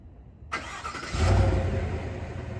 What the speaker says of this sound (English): let's make sure that the remote start still works.